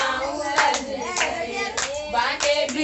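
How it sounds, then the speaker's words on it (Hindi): Hands clap in a steady beat, roughly every half second, along with a woman singing a devotional bhajan during an Ahoi Ashtami puja. "ताली बजा।"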